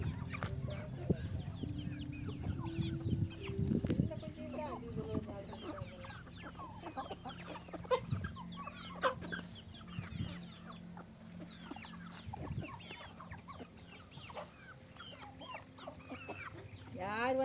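Hens and chicks cluck and peep on an Indian country chicken farm, busy repeated calls near and far, with someone talking intermittently over the birds.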